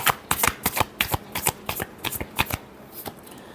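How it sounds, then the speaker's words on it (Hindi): A deck of tarot cards is shuffled in a close, crisp series of riffling flicks and slaps, about a dozen quick bursts in an uneven rhythm with no talking. "last shuffle"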